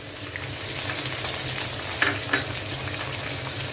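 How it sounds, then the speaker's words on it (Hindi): Onions and garlic frying in a pan, a steady close sizzle with faint stirring scrapes and a couple of brief louder spits, no talking. "लहसुन हल्की ब्राउन हो चुकी है, अब हम इसमें डालेंगे प्याज,"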